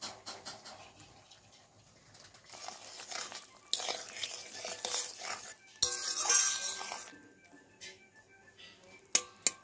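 Fried eggplant pieces go into a simmering fish curry of puti fish in a pan in a village kitchen, giving scattered clinks, scrapes and soft sizzling bursts, with a few sharp knocks near the end.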